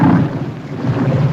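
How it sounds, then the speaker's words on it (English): Thunder rumbling through a storm in a 1958 period film, a loud, continuous low roll mixed with rain and wind, with no voices over it. "This is a storm indeed."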